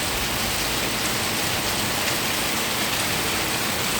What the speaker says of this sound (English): today it's raining here